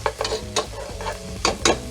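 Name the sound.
garlic toasting in a pan for sautéed spinach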